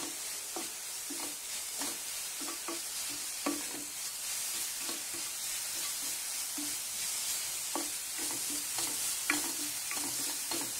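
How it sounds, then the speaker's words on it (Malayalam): A spoon stirs beetroot coated with turmeric and chilli powder in a pan, making soft repeated scraping strokes over a quiet steady sizzle, with no voices. "മഞ്ഞപ്പൊടി മുളക് പൊടിയുടെ എല്ലാം ചൊയ മാറുന്നതിന് വേണ്ടിയാണ് നമ്മൾ 2-3 തവണ ഇളക്കുന്നത്."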